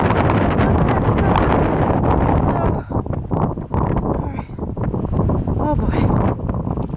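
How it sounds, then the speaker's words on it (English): Strong blizzard wind roars across the microphone outdoors at Bear Valley Springs, a loud continuous buffeting rush with gusty dips throughout. "There's too much wind out here."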